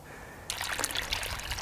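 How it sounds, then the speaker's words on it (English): Flushed water trickles and flows up a riverbed, carrying debris from the gutters, starting suddenly after a quiet moment and continuing as a close, bubbling stream. "So all that water that flushed out is now coming up here, carrying all the debris from the gutters"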